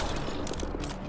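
A teammate fires a gun in the video game Mass Effect Andromeda, a quick clatter of several shots within a second amid busy game noise.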